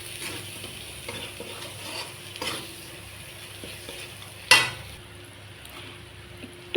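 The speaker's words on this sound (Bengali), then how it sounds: "তারপরে এটাতে দিলাম জিরা, রং গুঁড়া, এই যে লবণ দিয়ে ভালো করে এটাকে ভাজবো" Cumin, ground spices and salt fry in a pan with a low, steady sizzle, light scattered stirring scrapes and one loud metallic clank midway.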